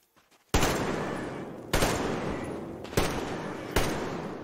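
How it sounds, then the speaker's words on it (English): Gunfire from tribal enemies in the video game Metro Exodus: four loud, sharp bursts roughly a second apart, each decaying into a long echoing tail that fills the gaps, with no voices. "But you can hear there's tribals outside. They're actually shooting at us."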